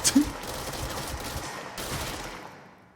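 Gunfire in the action video game Control: a loud initial crack followed by a dense, sustained volley of shots and echoing impacts that fade away over about three seconds.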